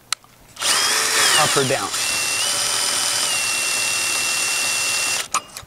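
Cordless drill driving a JX 2K side jack (drill-powered jack), a loud steady whirring motor running for about five seconds with a brief rising pitch at the start, a voice speaking briefly near the end.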